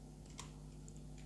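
Quiet, close clicks of a computer keyboard as a captcha is typed, a few light key presses over a low steady hum.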